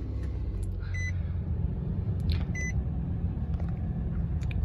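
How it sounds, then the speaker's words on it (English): A 2018 Nissan Frontier Pro-4X truck idles with a low, steady engine rumble after starting, while two short electronic chimes sound from inside the cab. "Come inside, turn on the truck for you."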